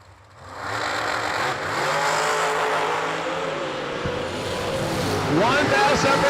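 A dragster engine at a New Year Nationals drag racing event roars up from quiet into a loud, sustained rumble, with an announcer talking over it throughout.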